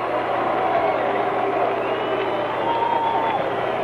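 A baseball crowd in a Royals at Orioles game greets Reggie Jackson, a steady, dense roar of mixed cheers and boos holding at an even level throughout, with a faint announcer's voice woven into the din.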